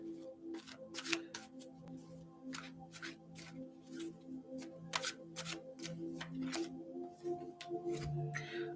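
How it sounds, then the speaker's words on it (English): Reading cards being shuffled and pulled, a run of crisp riffling snaps and flicks repeating irregularly, close and fairly quiet over a steady background hum. "I'm going to just pull some cards also."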